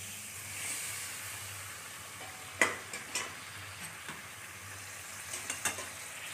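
Chicken skins are stirred into a cooked spice masala, a faint, low sizzle broken by a few light clinks and scrapes of the spoon against the pan.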